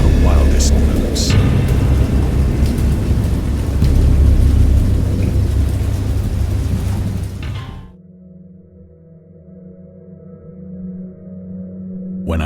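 Thunder rolls through a stormy scene in the game Dagon, loud and continuous with heavy rain. Deep booms rumble steadily, then the storm cuts off sharply partway through and only a low, quieter drone remains.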